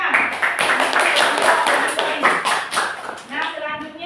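Schoolchildren in an inclusive classroom clapping hands together in a rhythmic burst, close and loud, with voices mixed in and trailing off at the end.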